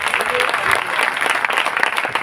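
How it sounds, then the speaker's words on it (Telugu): A church congregation claps loudly and continuously in dense, even applause that fills the space. "చప్పట్లు కొట్టాడు ఏసైకి గట్టిగా"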